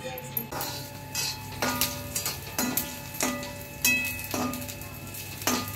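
Ginger and garlic fry in a pan for a vegetable dish, a soft sizzle broken by repeated sharp clinks and scrapes of stirring at an uneven rhythm, with people talking nearby.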